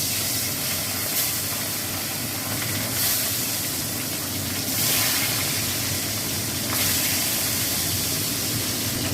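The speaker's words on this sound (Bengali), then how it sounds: "মাছটা ভাজা হচ্ছে" Salted, turmeric-coated fish fries in hot oil in a pan, a steady close hiss and sizzle that swells in a few brief louder bursts, with no talk.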